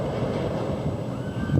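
A Boardwalk Bullet wooden roller coaster train loaded with water dummies rolls along the track at Kemah Boardwalk in Texas, a steady rumbling clatter with wind noise and a faint tonal squeal, growing louder near the end.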